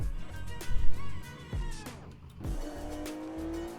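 A car in the video game GTA, played on a Ukrainian server, revs and drives with repeated tire squeals and skids. Engine tones sweep up and down, and one long screech rises near the end.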